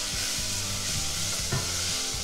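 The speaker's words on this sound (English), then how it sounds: "will add ginger garlic paste and stir fry for a minute" Ginger garlic paste stir-frying in a pan for beef potato chops, a steady sizzle broken by rhythmic scrapes and clicks of a spoon stirring, close and continuous with no talking.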